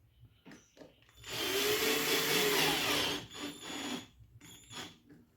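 A power screwdriver drives a screw to mount a dual battery meter in a 4x4, one sustained whir of about two seconds, fairly close, with light handling knocks before and after.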